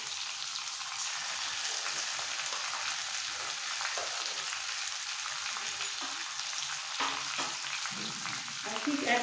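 Ground cumin and coriander paste sizzles with pieces of rohu fish in a pan, a continuous soft frying hiss with a few faint stirring scrapes near the end.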